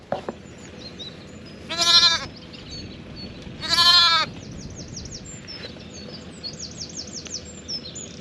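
Sheep on a farm during lambing, where a ewe gives two loud, drawn-out bleats a couple of seconds apart, with birds chirping faintly in the background.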